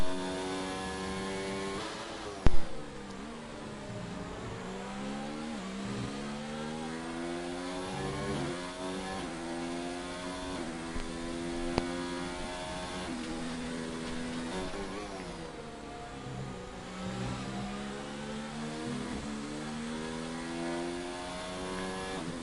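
Formula 1 car engine in a racing video game on the Canada circuit, a loud high whine with repeated rising pitch sweeps and short shifts through a turn, continuous and close with no talk.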